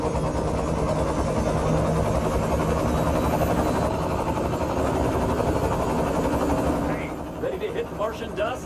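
A helicopter in the Mars game Take on Mars runs before takeoff with a loud, steady rotor and engine drone that eases off near the end, while brief clicks and chirps come in.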